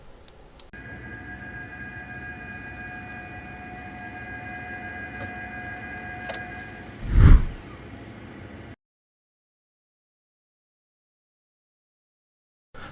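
The power liftgate of a second-generation Lexus NX runs after a kick-sensor trigger: a steady motor whine for several seconds, a single low thump, then silence.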